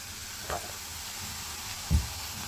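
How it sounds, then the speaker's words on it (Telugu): Pieces of bitter gourd fry in hot oil with a steady, soft sizzle, broken twice by brief stirring clatters. "కాకరకాయ ముక్కల్ని బాగా వేయించుకోవాలి మధ్య మధ్యలో కలుపుతూ బాగా క్రిస్పీగా అయ్యే విధంగా వేయించుకోవాలి"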